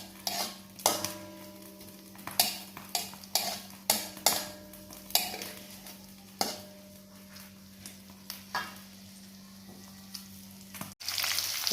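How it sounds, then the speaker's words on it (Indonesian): Onions sautéing in a pan for beef krecek, a steady low sizzle under a series of sharp spatula scrapes and clinks against the pan, with a louder clatter near the end. "Setelah itu kita masukkan bawang bombay. Kita tumis ya sampai kekuningan kecoklatan berubah warna."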